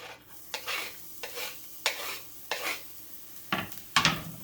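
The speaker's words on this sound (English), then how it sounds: "I'm going to start off with a little oil in a hot pan, and then we're going to add some minced up garlic, ginger, and scallion." Minced garlic, ginger and scallion hit hot oil in a pan, crackling under a series of sharp, close spatula strokes that scrape and clatter against the metal in quick bursts.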